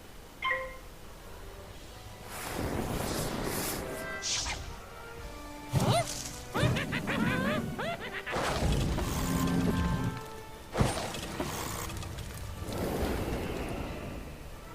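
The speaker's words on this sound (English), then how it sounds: "Cast a Fire Elf at the puppet." Fire Elf spell cast at a puppet in Wizard101, a series of loud bursts and crashes with scattered whooshes and impacts over a steady game backdrop.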